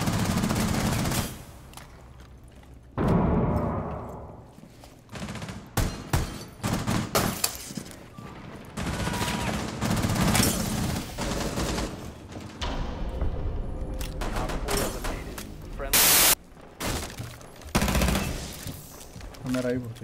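Gunfire in Rainbow Six Siege: bursts of automatic fire and single sharp shots, some glass shattering and thuds, loud and close in irregular clusters, with brief spoken voices in between.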